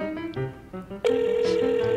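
A telephone rings steadily in a Minecraft roleplay game as a call to mom goes through, a loud sustained tone after a brief muffled stretch, with no voices over it.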